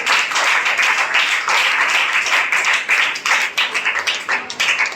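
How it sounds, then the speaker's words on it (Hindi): Loud audience clapping on a quiz show, close and continuous, with individual claps audible in a brisk, slightly uneven rhythm that thins briefly toward the end. "जोरदार ताली से"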